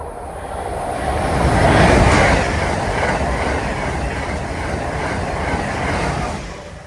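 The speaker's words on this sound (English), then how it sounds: "Train approaching. Please remain behind yellow line" A train rumbles into a station near Readville, Boston, with a steady roar and rhythmic clatter of wheels on rails, swelling louder before holding at a constant, close level.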